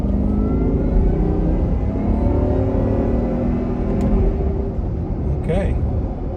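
A supercharged Range Rover engine rises steadily in pitch as it accelerates, heard from inside the car as a loud, continuous whirring rumble with no speech over it.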